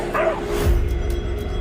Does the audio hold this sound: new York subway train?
no